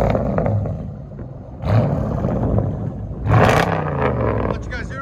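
A 2020 Dodge Durango SRT with true dual straight pipes rumbles and roars in short revving bursts, loud and close, with someone talking over it.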